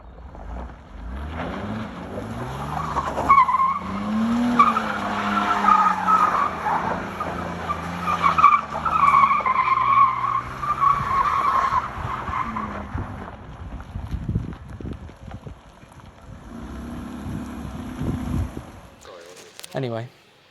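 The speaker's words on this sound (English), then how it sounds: "according to Mercedes, was its ability to do donuts" A Mercedes 300D diesel doing donuts, its tires skidding and scrubbing in a long, loud, continuous drone with shifting engine tone, while people talk over it.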